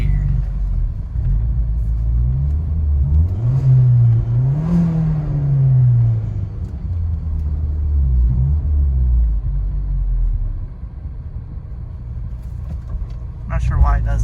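A 1999 Audi A4 wagon engine idles roughly in gear, a loud, steady low rumble that sags and surges as it threatens to stall, with brief faint voices near the end.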